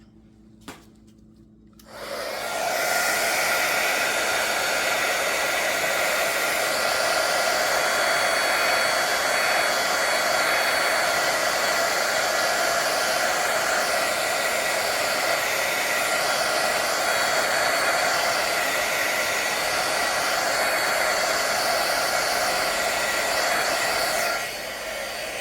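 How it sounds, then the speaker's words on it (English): A heat gun blows steadily over a resin butterfly charm, a loud continuous whooshing hiss that starts after a couple of quiet seconds and runs unbroken until it cuts off near the end. "put my heat gun over this"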